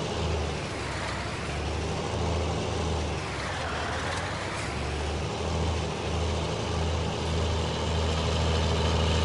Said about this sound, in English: I'm gonna buy a tractor for this, and I'll pull this to the shop.